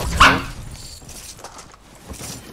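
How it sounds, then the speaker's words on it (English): A dog barks once up close near the start, a sharp loud bark that gives way to quieter rustling and room noise. "If my dog starts barking"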